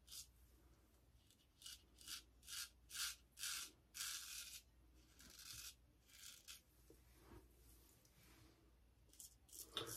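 A straight razor scrapes across stubble in a series of short, quiet rasping strokes, roughly rhythmic at first and then more scattered, close and faint against a low background hum.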